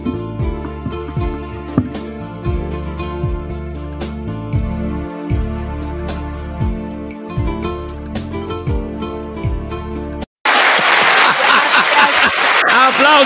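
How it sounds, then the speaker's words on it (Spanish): Studio applause for a television show's production crew breaks out loudly and densely in the final few seconds, right after a stretch of rhythmic music is cut off abruptly. "¡Aplauso para la producción de este programa!"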